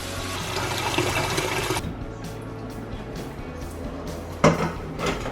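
Tap water is poured into the top chamber of a water filter, making a brief rushing splash that stops abruptly and is followed by quieter handling clunks.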